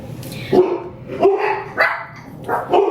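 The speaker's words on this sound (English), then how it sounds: "He barks at everything that passes by." A protective house dog barks at passersby, giving four sharp, close barks spaced roughly evenly over a few seconds, loud and alone.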